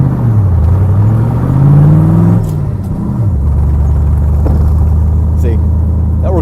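A 1966 Corvette engine rumbles loudly from inside the car as it drives and revs up, pitch rising then dropping at a shift before settling into a steady drone.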